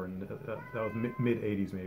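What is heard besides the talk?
cat meowing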